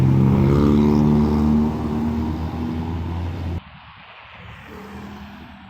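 A heavy, large-tonnage truck crosses an old flyover above a toll road, a loud low engine rumble close by that fades gradually and then drops away abruptly, leaving quieter background traffic.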